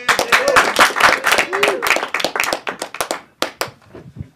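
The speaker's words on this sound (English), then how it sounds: "Give a round of applause for Dan Frigolette." A comedy club crowd claps and cheers as a stand-up comedian is welcomed to the stage, dense clapping that thins out into scattered individual claps.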